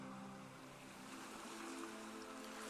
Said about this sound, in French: Tu entends le bruit des vagues.